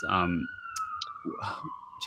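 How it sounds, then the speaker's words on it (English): A siren tone holds steady across the clip, passing nearby while a person speaks over it, with a few sharp clicks scattered throughout. "I'm going to let this siren pass."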